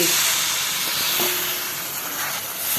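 A loud, continuous sizzling hiss as water is poured into hot egg curry, holding steady for a few seconds with no voices.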